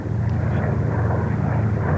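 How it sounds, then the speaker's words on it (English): German warplanes flying over London in a wartime air raid, a loud continuous low drone of propeller engines filling the sky, steady and dense throughout without talk. "But at 5 p.m. the sky fills with German planes."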